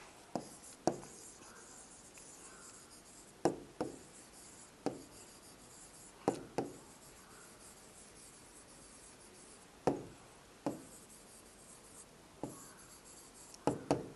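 Handwriting of fractions during a maths lesson, a pen or pencil scratching on paper up close, with sharp taps at the start of strokes recurring every second or two, quiet between strokes, no voice.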